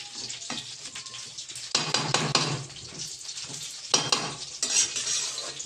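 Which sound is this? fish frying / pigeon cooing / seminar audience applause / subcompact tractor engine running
fish frying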